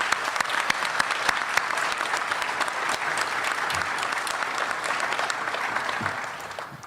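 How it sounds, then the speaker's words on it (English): An audience in a room applauds student football players at a University of Houston coaching introduction. The clapping is loud, dense and steady throughout and fades slightly at the end. "Let's give those kids a round of applause"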